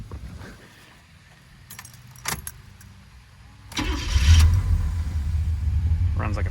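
A Chevrolet El Camino's engine cranks and catches, rising into a steady low rumbling idle after a brief jangle of keys, close by, with a voice talking faintly near the start.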